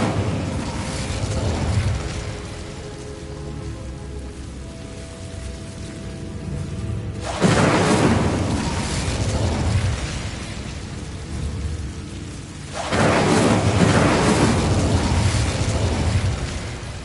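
Incendio fire spell effect in a game, three long roaring whooshing blasts, each swelling then sustaining for several seconds, loud and dense, with no talking.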